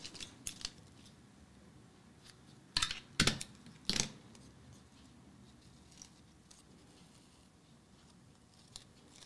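Scissors snip paper for a collage, with a few sharp cutting strokes in a short cluster and a couple of lighter snips; quiet room with no talk.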